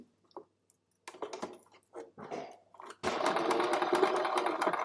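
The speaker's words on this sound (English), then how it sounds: "And now I'm just going to sew all the way around the outside one time." A sewing machine stitching around the outside edge of a piece, starting after some scattered handling clicks and rustles, then running in a steady close whir for the last couple of seconds.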